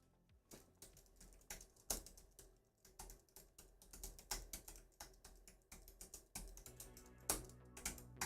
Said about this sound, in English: Because maybe the typing sound,